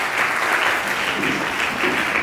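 Steady audience applause fills a church worship gathering, dense continuous clapping from a sizeable crowd, loud and even throughout with no voices on top.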